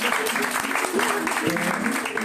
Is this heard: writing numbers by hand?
no